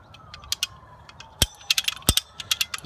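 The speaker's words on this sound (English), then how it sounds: "now we can pull this tight with our ratchet" A ratchet tensions a zipline cable, with crisp metallic clicks and clunks coming in irregular bursts, close and fairly loud, and two heavy pawl snaps among lighter clicks.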